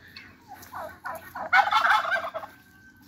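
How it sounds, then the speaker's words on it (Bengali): A flock of chickens and ducks calls out in rapid, bubbling bursts, loud and close, rising into a noisy chorus before trailing off. "ও বাবা, হাঁস মুরগি অনেক"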